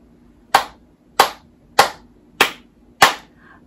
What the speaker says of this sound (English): let's give God 5 claps